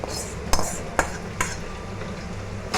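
A spoon stirs thick onion-tomato gravy into boiling dal for sambar, with a steady bubbling simmer and several sharp clinks of the spoon against the pot spaced about half a second apart.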